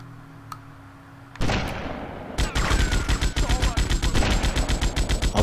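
A big gun fired in GTA Vice City, starting with a loud blast and then breaking into a rapid, loud string of automatic shots that continues to the end, with faint background game noise.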